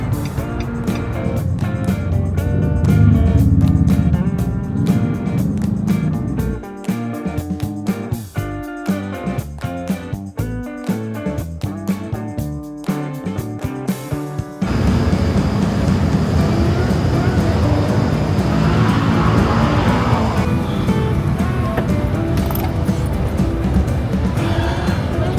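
Busy street traffic at New Year, with passing vehicles and engine rumble close by, then a shift to a steadier, denser roar of surrounding traffic noise.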